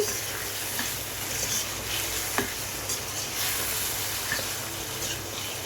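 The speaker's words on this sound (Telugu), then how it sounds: "ఈ పోపులో అయితే ఈ చికెన్ వేసి నేను మూత పెట్టి అయితే మగ్గించుకుంటున్నాను మధ్య మధ్యలో ఇలా కలుపుకుంటూ" Chicken simmering in a pan with fried onion, tomato and seasoning, stirred now and then, gives a steady soft sizzle with faint scraping stirs, close and continuous with no talk.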